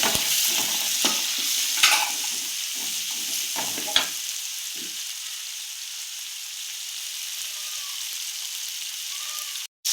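Onion and tomato sauté in a pan for a crab soup, giving a steady sizzle with stirring scrapes and a few spoon knocks in the first seconds. The sizzle then continues alone until an abrupt cut at the end.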